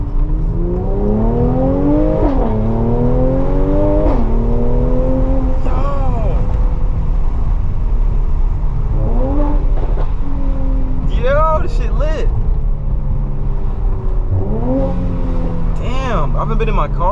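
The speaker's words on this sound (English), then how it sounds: "damn near sound like a Ferrari" A car engine in a video game revs repeatedly, roaring up and dropping back in several surges under steady engine drone, with someone talking throughout.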